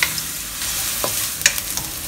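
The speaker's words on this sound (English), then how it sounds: "Started frying for a while." Thinly sliced ginger and chopped garlic fry in oil over medium heat, a steady close sizzle with a few brief clinks of stirring.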